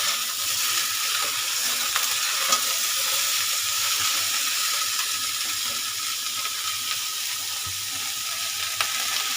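Vegetables for Bengali shukto fry steadily in a pan with salt, giving a continuous close sizzle with faint scattered crackles throughout and no voices.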